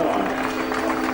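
Steady applause from the crowd at the Monaco Grand Prix podium as Kimi Räikkönen receives his trophy, a dense continuous clapping wash with a commentator's voice running over it.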